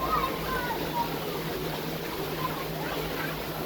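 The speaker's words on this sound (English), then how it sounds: "And this is a waterfall." A waterfall at the Missouri Botanical Garden gives a steady, even rush of falling water, heard under people talking nearby.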